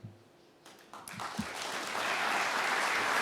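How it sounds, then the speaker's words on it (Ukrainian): A crowd's applause at a summit of cities and regions begins with a few scattered claps and swells into loud, steady, sustained clapping. "Це вам оплески."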